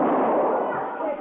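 A single gunshot rings out during a tense Old West confrontation, a broad booming blast that fades over about a second.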